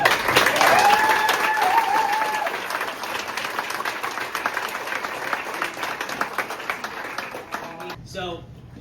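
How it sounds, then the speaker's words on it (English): Audience applause at a spirits event in Alaska, dense clapping with some cheering, loud and steady for about eight seconds before dying out. "Let's give a round of applause"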